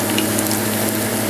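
Ripe plantains frying in a pan make a dense, continuous sizzle with no pauses, loud and close.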